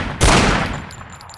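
A single loud gunshot rings out while shooting around a corner in the Hidden & Dangerous 2 video game, a sharp close blast with a fading tail and no talk.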